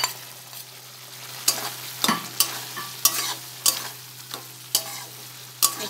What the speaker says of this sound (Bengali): এবার আলু ভেন্ডি ভেজে রেখেছিলাম সেগুলো দিয়ে দেব।